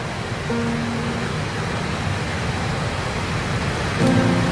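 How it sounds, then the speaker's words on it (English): Waterfall at a Langkawi scenic stop during a cycling tour, a steady broadband roar of falling water filling the scene continuously, with faint tonal hums drifting in and out and a slight swell near the end. "Hearing the sound of waterfall"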